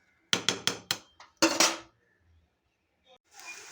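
Cooked biryani rice in a metal pot is lifted off the stove, giving a quick run of four close metallic clanks followed by a longer scraping clatter, then a few faint knocks.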